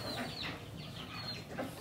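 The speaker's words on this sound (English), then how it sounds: "All the chicks made it here." Newly arrived Cornish chicks peep in a brooder, a dense chorus of high, overlapping cheeps, close and continuous at low volume.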